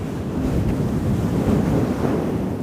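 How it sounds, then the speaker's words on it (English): A fluffy microphone windscreen is rubbed close to the mic, producing a steady, soft, broadband whooshing rumble that resembles ocean surf, continuous and alone. "I'm gonna use the fluffy mic."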